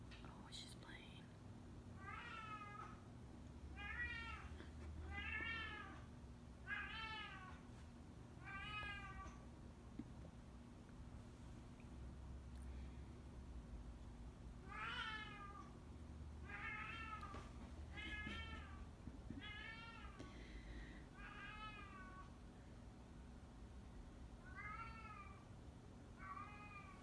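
A cat playing meows again and again in short, quick bursts spread across the stretch, soft and a little distant, over a low steady hum of the room.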